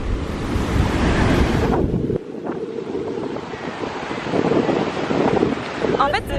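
Strong wind buffeting the microphone at a Saint-Martin beach, with surf washing in beneath it, a loud continuous roar that rises and falls while someone speaks over it.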